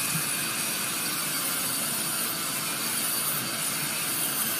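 A Dremel 3000 with a sanding drum grinds steadily against rough-cut wood while carving a Santa figure, a loud, even, high-pitched whir heard close and continuous with no talking.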